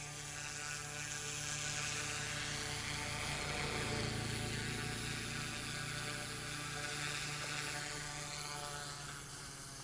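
An OMP Hobby M2 RC helicopter flies nearby with a steady, high-pitched whine from its rotor and motor that holds for about ten seconds, its pitch drifting slightly, and no talk.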